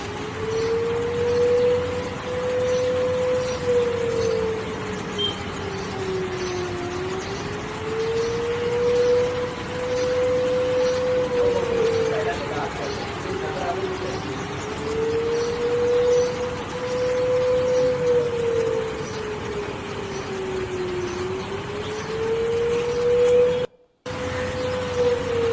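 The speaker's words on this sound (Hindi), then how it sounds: "इस्लामाबाद है ये और इसमें सायरन की जो आवाज है वो आपको सुनाते हैं।" Civil defence sirens wail across Islamabad, Pakistan, in steady rising and falling cycles, loud and continuous over a constant city background hum, and cut out briefly near the end.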